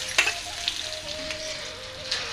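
Chopped onion and green chili fry in oil in a pan after dried red chili and cumin, a steady close sizzle with occasional crackles and stirring scrapes, no voices.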